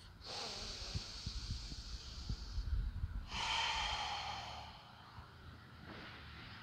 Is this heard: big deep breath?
yes